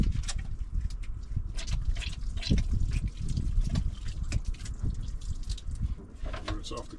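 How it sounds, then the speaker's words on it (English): Hands washed under a running faucet inside a camper van near Prescott, Arizona, with water splashing and trickling in an uneven, close-up patter for several seconds. "I am going to wash my hands really good."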